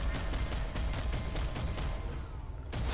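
Tank main gun fire in a video game battle, with dense rumbling gunfire and repeated heavy bursts sustained over a loud low-end wash, then a brief drop before another blast near the end.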